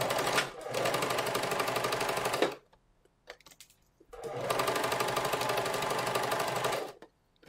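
A sewing machine stitches a lined yoke on a western blouse, running in two steady, fast-whirring bursts of about two seconds each, separated by a short pause with faint handling clicks.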